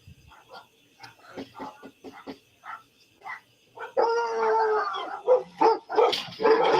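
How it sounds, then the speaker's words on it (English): Several dogs bark and yip in short sharp bursts, some close and loud, with a howl-like drawn-out cry partway through, mixed with background voices and commotion. "She got some dogs in there too somewhere."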